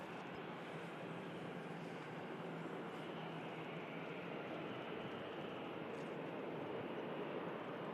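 An EasyJet airliner arriving from Marrakesh at Manchester Airport gives a steady, broad jet roar that stays fairly faint and even throughout, with no talk.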